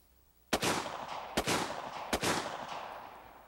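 An AR-15 rifle fires three sharp, loud shots of SS-109 armor-piercing steel-core rounds at an outdoor range, spaced under a second apart, each cracking report trailing off in a short echo with no talk.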